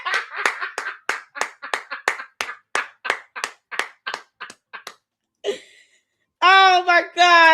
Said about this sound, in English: Y'all give Edie Marie a hand clap of praise up in here.